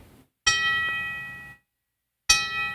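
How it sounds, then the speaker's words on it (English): A tom drum fitted with brass hoops is struck twice, each hit loud and alone with a bright metallic ring and a long sustain that is cut off, separated by a short silence. "This is the brass, the one that has a lower pitch but less complex sound."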